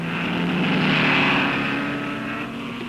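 A 1959 Aston Martin DBR1 race car at the Nurburgring sends out a steady, close engine drone that swells and then eases slightly as it passes. It sounds continuous and strong throughout.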